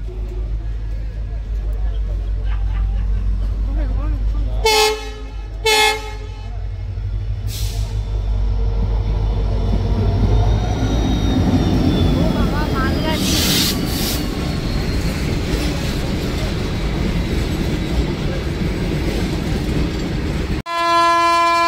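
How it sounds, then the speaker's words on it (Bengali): A train draws closer along the rail line, its horn blaring in several loud blasts over a steady low rumble and rising clatter of wagons, with people talking nearby at a station during a morning outing. "অনেকক্ষণ ধরে দাঁড়িয়ে আছে, ট্রেন চলে আসছে।"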